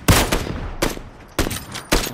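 Mortar fire in PUBG: four heavy booming shots spaced roughly half a second apart, each a sharp loud blast with a short decaying tail, no talk.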